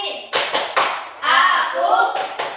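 Primary school pupils in a classroom doing a clapping game: a few sharp, quick hand claps in rhythm, mixed with loud voices chanting along.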